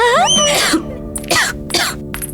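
Several harsh, loud coughs in quick succession, close up, each a raspy burst followed by brief pauses.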